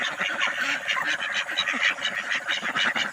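A flock of domestic ducks kept for their eggs quacks and honks continuously at close range, many overlapping calls forming a dense, busy chatter.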